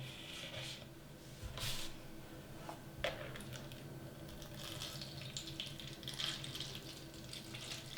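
Water pours steadily into a plant pot's outer container with a soft, constant rush, close by, punctuated by a couple of light clinks.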